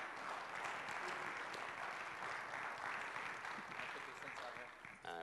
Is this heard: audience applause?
yes